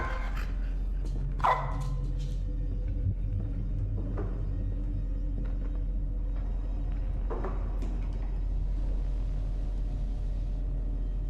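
A dog barks in a horror video game, a few scattered barks at moderate distance over a low steady rumble and ambient drone.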